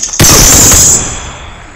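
A single loud, close gunshot from the PUBG battle-royale video game cracks sharply and then rings out in a fading tail.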